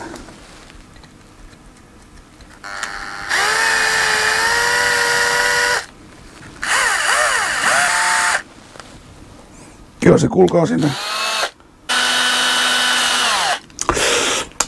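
A power drill whines in several bursts of a few seconds each, pitch rising and falling under load as it bores into a roe deer leg bone, with brief speech between the bursts.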